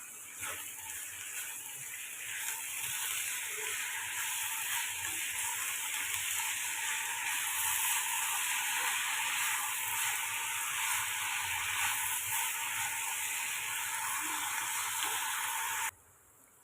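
Small taro (sirukizhangu) sautéing with salt in a pan gives a steady, even sizzle throughout, with faint stirring scrapes, before stopping suddenly at the end.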